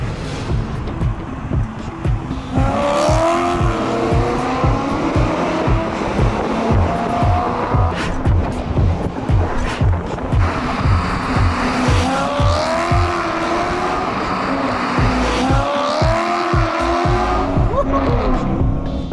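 A project car is driven hard with a loud engine revving and rising throughout, and repeated tire squeals over the top, the car heard close.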